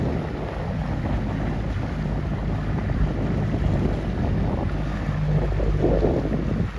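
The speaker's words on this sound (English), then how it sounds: "Didn't expect this much wind." Strong wind buffeting during a C420 sailboat race, a steady loud rushing roar over the microphone with water and hull noise beneath.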